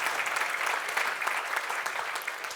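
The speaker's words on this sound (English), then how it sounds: "I think we can give a great applause to our speakers." Steady applause from a conference audience thanking the speakers of an infrastructure finance round table panel, dense sustained clapping throughout with no voices over it.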